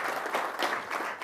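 Audience applause at a corporate CEO leadership gathering, a steady wash of clapping from a seated crowd, fairly distant and even, with no talk over it.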